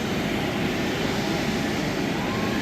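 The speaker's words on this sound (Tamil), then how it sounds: "இதான் பாருங்க ஃப்ளைட்" Airplane at the airport for a Colombo to Seychelles flight, a loud continuous roaring engine hum filling the scene steadily without talk.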